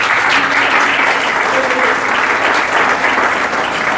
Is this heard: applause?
yes